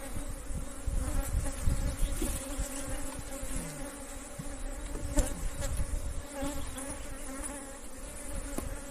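Dense buzzing of many bees swarming close by around a hive on a windy day, a constant droning hum with no voices.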